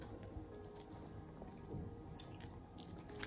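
Quiet, close chewing and biting on a layered pastry from Paris, soft squishy mouthfuls with one small crisp crunch midway and no talking.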